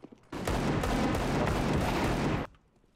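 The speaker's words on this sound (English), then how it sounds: "Throwing flashbang." Flashbang grenade going off in the game CS:GO, a loud sustained burst of harsh noise lasting about two seconds, then cutting off abruptly.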